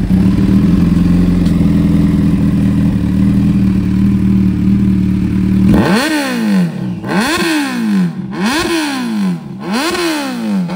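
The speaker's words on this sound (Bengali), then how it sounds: "এখন সুমনদার বাইকে সাউন্ড হবে, চেক করো গাইস সাউন্ডটা। এবার হলো কি কাওয়াসাকি G900 BS4 আমারটা" Kawasaki Z900 BS4 motorcycle with an aftermarket exhaust, idling with a steady rumble before a series of four sharp, loud throttle blips that rise and fall in quick succession.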